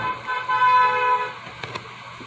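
A passing car on a city street honks its horn, a loud nasal tone held for about a second, then fading into background traffic noise with a couple of brief knocks.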